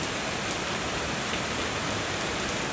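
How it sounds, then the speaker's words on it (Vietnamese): Heavy rain pours steadily over a countryside vegetable garden with white radish and water spinach beds, a dense, unbroken hiss close by with no voices. "mưa vậy đó"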